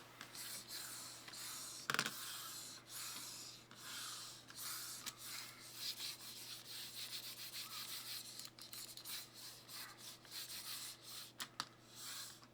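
Lexip ceramic-footed gaming mouse sliding back and forth across a mousepad, a steady close scraping rub with bright, hissy high-pitched texture and a couple of sharper flick accents.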